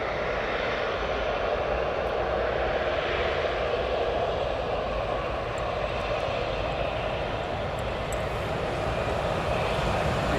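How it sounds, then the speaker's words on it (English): Aircraft engines at East Midlands Airport as planes push back and taxi toward the runway threshold, a steady, loud roar holding without a break, with no talk over it. "We've got a nice line-up of aircraft pushing back and taxiing up"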